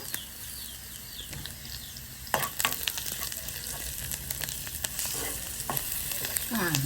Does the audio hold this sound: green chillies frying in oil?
yes